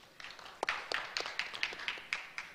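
Scattered applause from a small audience at a webinar forum on the future of AI, with about a dozen light, evenly spaced claps that sound close and fairly quiet, and no voices.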